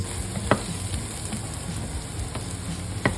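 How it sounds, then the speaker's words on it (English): Chopped carrots and celery cook in a pot, giving a steady, close sizzle with a few sharp clicks of stirring and no talk. "1 cup of chopped carrots and 1 cup of celery. Cook until they're nice and tender"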